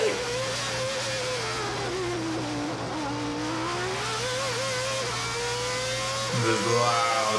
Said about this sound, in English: This loud sound of the car just unleashing the full engine.